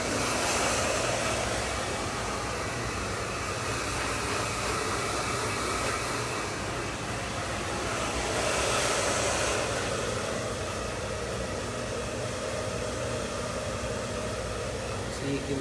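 A hair dryer blows in a steady, broad rushing roar, swelling and easing slightly as it moves around during a curly-hair cutting and styling session, with no speech over it.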